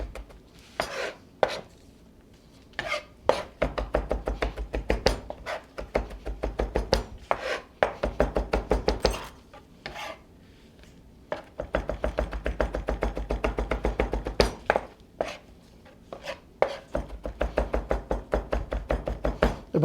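A knife chops garlic finely on a board in rapid bursts of crisp, close taps, each run of strokes separated by short pauses for several cycles.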